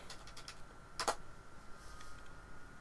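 A few keystrokes on a computer keyboard entering a console command for Fallout 4, one short quick burst of clicks among faint taps, close and quiet.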